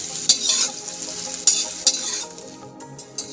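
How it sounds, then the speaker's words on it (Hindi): Soya chunks frying on a high flame, a bright hissing sizzle broken by sharp stirring clatters of a spoon against the pan, fading quieter near the end. "सोया बड़ी में अच्छी क्रंच आने तक मैं इसे फ्राई कर रही हूँ"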